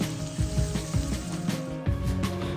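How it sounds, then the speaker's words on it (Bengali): Chopped onion fries in hot oil in a pan for kadai paneer, giving a steady sizzle broken by repeated scraping and stirring strokes close by. "এরপর কিছুটা পেঁয়াজ কুচি আমি এটাতে দিয়ে হালকাভাবে ফ্রাই করে নেব।"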